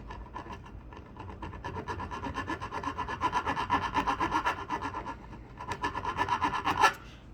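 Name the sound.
file cutting guitar fret bevel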